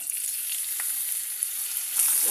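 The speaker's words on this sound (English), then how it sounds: "Now I would be adding one big chopped onion" One big chopped onion fries in hot cooking oil in a pan, giving a steady, close hissing sizzle with faint crackles throughout and no talk.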